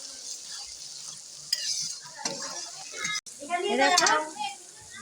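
Chopped ginger hits garlic already frying in hot oil for a duck curry. A steady sizzle rises and swells as a spoon stirs and scrapes the pan, with a brief clatter in the middle.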